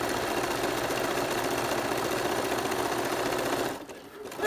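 A sewing machine stitching a rope bowl runs steadily in a fast, buzzing mechanical rhythm close by, then stops abruptly near the end.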